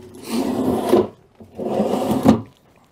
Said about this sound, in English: So we'll put out the gangplank because there's a lot of sand here.